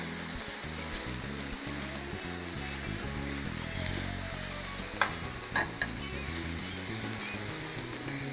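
Food with capsicum fries in oil in a pan, a continuous close sizzle with stirring and a few sharp scrapes and clinks of the utensil against the pan.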